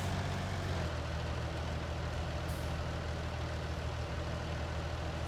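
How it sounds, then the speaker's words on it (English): Tractor engine idling in Farming Simulator, a steady low diesel rumble with constant hum that holds evenly throughout, fairly close and alone without talk. "we're down by our tractor and our harvester is not far behind"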